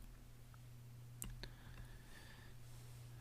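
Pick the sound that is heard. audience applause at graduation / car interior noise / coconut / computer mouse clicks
computer mouse clicks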